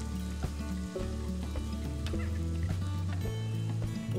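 Chopped onion sautéing in a pan for a ground-meat pie, giving a steady, continuous sizzle that runs underneath tonal background music.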